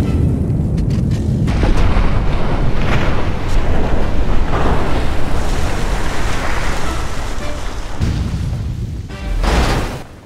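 A shot from an ancient evo gun in a GTA and Free Fire mashup game lands as a loud, deep boom over sustained rushing, wave-like noise. A second swelling burst comes near the end.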